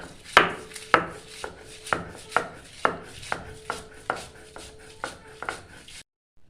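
Onion, garlic, green chillies, dried chillies, black cumin and salt are ground into a paste for a prawn dish. About a dozen close, rhythmic scraping strokes sound one after another, then stop.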